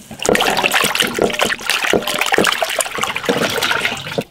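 A whole pig stomach rinsed again and again in warm water, with loud, continuous close-up splashing, sloshing and trickling from start to finish.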